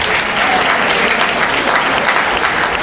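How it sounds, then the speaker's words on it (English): A school event audience claps steadily and loudly throughout, a dense, even wash of applause from many hands with a faint crowd murmur beneath. "Give yourselves a round of applause."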